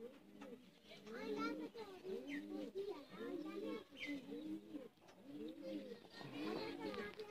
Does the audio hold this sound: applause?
no